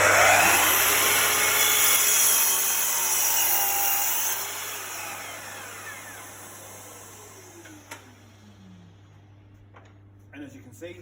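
Festool Kapex miter saw making a quick cut while its dust extractor runs, both powered from a portable power station; a loud whining cut fades over several seconds into the extractor's steady hum, then quiet with a few knocks.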